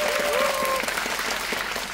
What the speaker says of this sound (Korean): 박수는 언제나 좋은 거니까 쳐주세요.